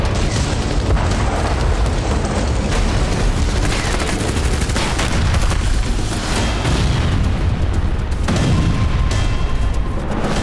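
Loud, continuous barrage of explosions and gunfire-like booms during a military bombardment in Crimea, dense and overlapping with no pauses, filling the whole stretch.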